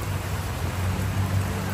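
Rain falls at an outdoor market in a steady dense hiss with a low rumble underneath, continuous and fairly loud, with no voices.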